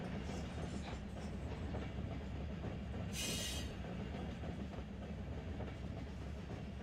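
A simulated BNSF ES44DC locomotive on a high-priority intermodal train in Run 8 Train Simulator. It gives a steady, dense rail rumble, with a brief sharp hiss partway through as the cars' slack runs in.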